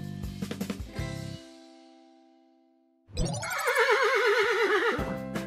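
A horse whinnies loudly and alone, a long rising-and-falling neigh with a vibrating tremolo lasting about two seconds, following an earlier burst of clattering sounds and a short silence.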